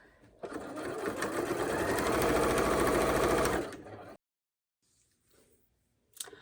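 A sewing machine stitches binding onto a quilt in one steady, close, loud run of about three seconds, then stops; near-silence follows with a few faint handling sounds.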